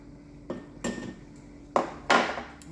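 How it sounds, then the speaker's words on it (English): A glass canning jar packed with potatoes is tapped lightly by hand, giving four distinct, clinking knocks spaced unevenly and heard up close. "Every so often give it a little tap, not too hard. You don't want to break your jar,"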